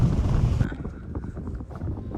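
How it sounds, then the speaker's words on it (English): Loud wind buffets the microphone on a sailboat arriving at Big Majors in the Bahamas, a roaring burst that drops off abruptly, leaving gusty rumbling and faint knocking sounds. "and it is windy."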